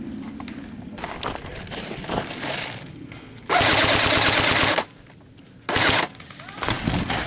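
An airsoft AK fires in an outdoor team game, with short sputtering bursts and two longer loud automatic volleys close by, mixed with movement and faint voices.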